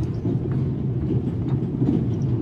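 Steady rumble of a train rolling along the rails, a dense low-pitched roar with faint clattering throughout, continuous and fairly close, with no voices.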